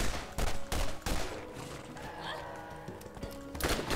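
Rapid bursts of SMG fire in the video game Borderlands crackle in short volleys against skag enemies, with game sound effects between the shots.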